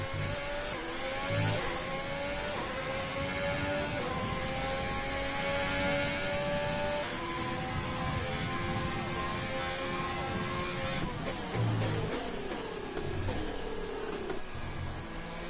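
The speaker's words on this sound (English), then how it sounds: "The reason why they sound terrible is because these are V6 hybrids" V6 hybrid Formula 1 cars in F1 2020 race through Hanoi or China, their engines a continuous high buzzing whine that rises and falls in pitch through gear changes, loud and steady throughout with no talking.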